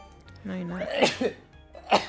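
A single person's sneeze, bursting out sharply near the mic and followed by a second short burst, with talk from others in the room around it.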